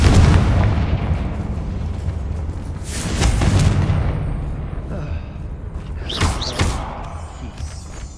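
Confringo fire spells burst in a Hogwarts Legacy game battle, several booming explosions landing a few seconds apart, with short sharp pops near the end, fairly loud over a continuous low rumble.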